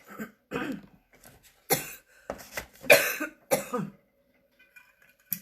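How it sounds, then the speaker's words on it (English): Several dry coughs and throat clearings in short bursts with pauses between, close and fairly loud, no talking. "I need a cough drop"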